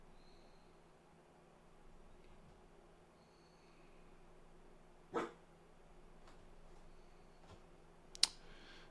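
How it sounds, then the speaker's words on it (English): A dog named Max barks once, short and sharp, then a couple of softer clicks and a brief yelp later, faint and off to the side in an otherwise quiet room with no speech. "It is barking."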